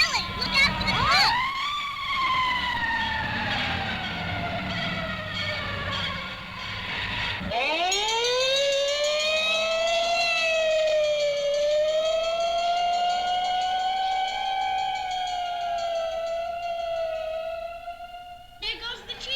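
Wailing fire engine siren from a 1959 children's record, sweeping down then rising and holding a long sustained howl, loud and close, with a voice speaking briefly over it.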